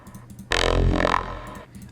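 A Splice sample effect called Godzilla plays in a riddim production: one loud, low, roaring burst lasting under a second, bursting in after a quiet lead-in and then fading to a soft tail.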